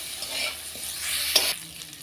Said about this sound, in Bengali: বেশ কিছুক্ষণ আমরা এখন এগুলিকে ভেজে নেব